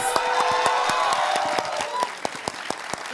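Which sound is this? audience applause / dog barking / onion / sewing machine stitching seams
audience applause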